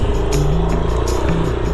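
A white 2023 Yamaha Aerox 155 scooter engine pulls hard under acceleration, a loud, steady close-up drone with a rising engine note and wind rush, no talking.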